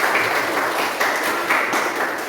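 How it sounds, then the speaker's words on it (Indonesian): A class applauds after a group presentation, dense steady clapping from many hands that continues evenly without talk. "kita berikan aplaus"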